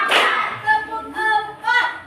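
A counted clapping game in a classroom, with sharp hand claps falling in a short paced rhythm between voiced chant-like calls, close and moderately loud.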